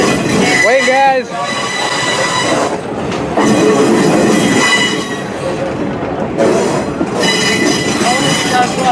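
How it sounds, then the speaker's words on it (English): Transfer caboose train rolling down a heritage railway main line on opening day, with loud continuous rumble and clatter, repeated high wheel squeals around the start and later, and people talking over the ride noise. "let's take a unique ride on the transfer caboose down ORM's main line"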